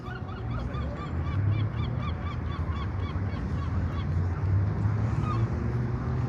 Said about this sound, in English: I hear some seagulls somewhere.